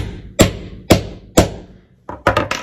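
A hammer strikes a rivet setting tool on a keyfob, three evenly spaced loud metallic taps followed by a quicker cluster of three, close and sharp.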